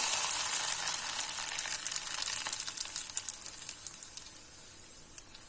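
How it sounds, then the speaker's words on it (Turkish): Hot oil poured over a lentil bulgur pilaf, a soft, faint sizzle and crackle with scattered pops fading gradually over several seconds, with no voices. "Yağımızı, sınan yağımızı pilavımızın üzerine döküyoruz."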